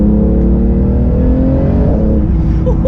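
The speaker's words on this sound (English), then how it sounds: "watch this, here's a GT3 RS." Porsche GT3 RS accelerating hard past at full throttle on a tarmac stretch, a loud, sustained rising engine note with smooth harmonics that begins to fade as the car pulls away.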